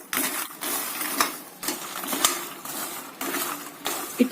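Dry makhana (foxnuts, lotus seeds) stirred and roasted in a pan, giving a steady rustling, crackling scrape with repeated strokes and small clinks, no talk.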